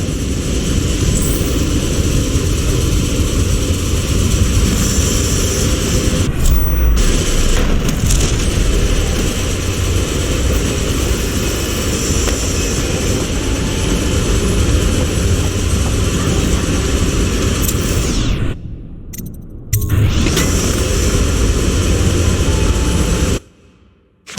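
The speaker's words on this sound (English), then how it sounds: "Fire up the engine from the bridge." A ship's engine roars up and drones on continuously in the Dishonored: The Brigmore Witches game, a heavy, loud low rumble that cuts briefly near the end before dropping away.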